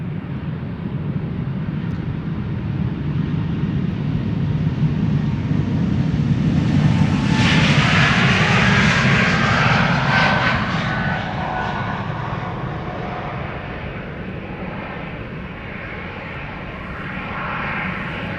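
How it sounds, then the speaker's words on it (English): An airliner's engines spool up for departure to Tallinn, a broad roar that swells to a peak midway with a rising whine, then eases back into a steady rumble, heard from a distance with no talking. "Over there, spooling up. Ready to go to Tallinn."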